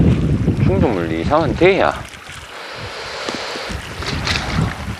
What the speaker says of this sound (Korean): 야, 바람이 너무 많이 분다.